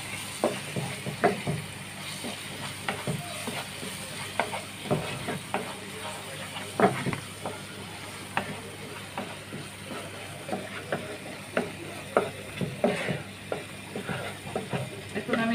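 Spice masala sizzles in hot oil in a pan while a spoon scrapes and stirs it in repeated strokes, a low steady frying hiss under sharp irregular scraping.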